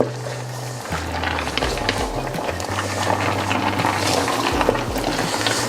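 Chicken stew with plenty of onion bubbles and sizzles in a pot while being stirred, with scraping and churning over a low steady hum.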